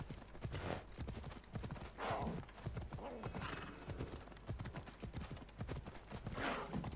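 Horse hooves gallop in a steady clip-clop through the Assassin's Creed Odyssey game, with occasional whinnies and swelling whooshes over a continuous game soundscape.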